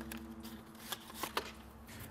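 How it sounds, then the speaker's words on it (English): A pack of playing cards being shuffled by hand around a table, quick riffling flutters and several sharp snapping bursts, close and fairly quiet, with no talk. "make sure that everyone separately shuffles the pack"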